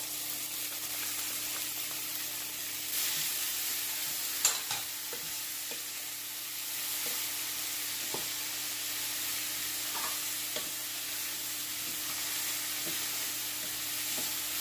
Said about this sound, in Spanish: Voy a añadir sofrito.